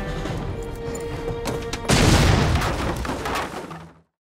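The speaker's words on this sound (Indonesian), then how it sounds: "dengan terpaksa Sarge mulai melempar bom mengarah ke tempat tinggal Patrick" A bomb blast in a zombie film: a thin whine and scattered pops build into a loud, sudden explosion that roars and rumbles for about two seconds before cutting to silence, with no voices.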